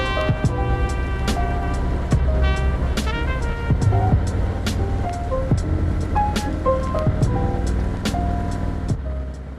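A motorcycle riding through a decreasing-radius corner gives a continuous engine note whose pitch rises and falls with throttle and gear changes. It stays close and loud throughout, with wind buffeting and no speech.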